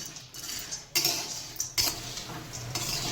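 Jamun seeds dry-roasting in a pan, stirred so they rattle and scrape against the metal in a steady clatter, with a few sharper knocks standing out.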